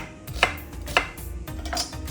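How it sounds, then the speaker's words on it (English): A knife cuts an onion on a cutting board while kimchi ingredients are prepared, giving two sharp, close chops followed by a softer third cut, with no talking. "Cut the other half of the onion in half again and cut it again."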